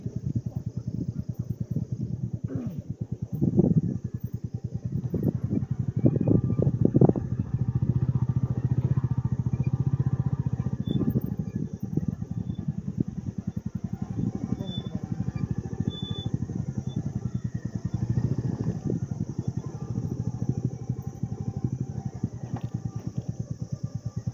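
A Royal Enfield Meteor 350 motorcycle climbing mountain slopes, its low single-cylinder engine thumping steadily and loud throughout, with wind rumble and occasional clatter.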